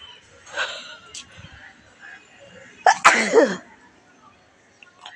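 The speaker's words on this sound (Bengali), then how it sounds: "তো হাঁচি হচ্ছে, ভোরবেলা ঘুম ভাঙলেই" A person sneezes sharply, nearby and fairly loud, after waking early in the morning on a rooftop, preceded by a softer sniff or breath and quiet surroundings.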